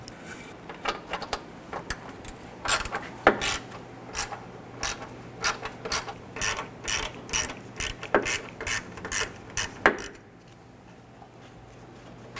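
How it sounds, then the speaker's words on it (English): A 1/4-inch ratchet loosens Torx screws on the headlight of a 1997-2006 Jeep Wrangler. It gives rapid close clicking bursts in repeated strokes for about ten seconds, then stops. "We're going to use our 1/4-inch ratchet."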